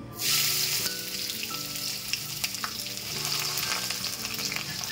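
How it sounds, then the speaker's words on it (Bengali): Finely chopped onions hit hot oil with curry leaves in a pan for a bamboo shoot and meat dish, starting with a sharp loud sizzle that eases into constant close frying with occasional stirring clicks and no voices. "তো এখন দিয়ে দেব পেঁয়াজ।"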